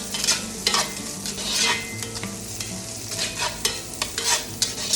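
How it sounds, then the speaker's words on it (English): A utensil stirs chopped garlic and red Thai chilies frying in a pan for pad thai. Sharp scraping strokes recur over a steady sizzle, close and fairly loud, with no voices. "Give this a good stir."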